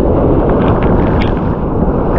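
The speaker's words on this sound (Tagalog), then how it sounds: "Ang lakas guys ng alon." Strong sea waves crash against rocks on an island shore during a fishing trip, a loud, continuous low roar and rush of churning water that fills the short stretch without pause.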